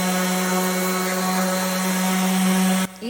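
A power sander whirs steadily on wood boards with a constant high hum, then cuts off abruptly near the end, followed by a brief faint rustle.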